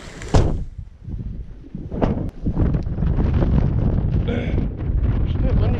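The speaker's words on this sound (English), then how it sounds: "It's a bit windy today, boys" Low, gusty wind buffeting a microphone outdoors while fishing, rumbling steadily through most of the clip with a few sharp knocks near the start.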